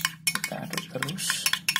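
A spoon scrapes and clinks around a bowl while stirring parakeet porridge feed, giving quick irregular taps and soft scraping strokes close to the listener.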